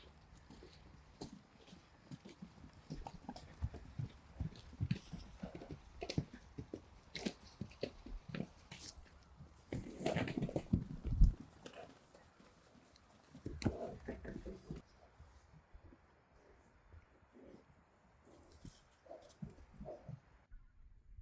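Friesian horses walking in a pasture, hooves clip-clopping in an irregular close stepping rhythm with some rustling and a few louder thuds, fairly quiet overall and fading near the end.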